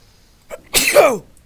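A single close, sharp sneeze with a brief in-breath before it, otherwise quiet.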